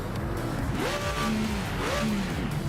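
A race car engine in Project Motor Racing revs up and shifts repeatedly, its pitch climbing and dropping through gear changes, loud and continuous.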